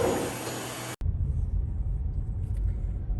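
A car drives along a road in British Columbia, Canada, heard from inside as a steady low rumble of engine and tyres after a brief cut, with no talking.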